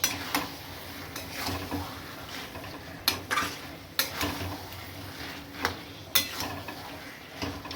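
Chicken sautéing in a pan, a low continuous sizzle broken by repeated sharp clinks and scrapes of a spoon against the pan at an uneven pace.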